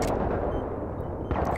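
An L85A2 rifle fires on full auto in a video game, a dense continuous rattle of gunfire that is loud and steady throughout the short burst.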